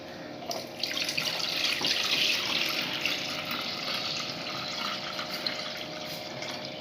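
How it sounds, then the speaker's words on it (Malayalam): Thin halwa batter trickles and splashes little by little through a sieve into a pan, a soft continuous watery pour with small spatters, fairly quiet and without talk. "ഒരു അരിപ്പ എടുത്ത് വെച്ചിട്ടുണ്ട്. അതിലേക്ക് കുറേശ്ശെയായിട്ട് ഒഴിച്ചു കൊടുക്കാം."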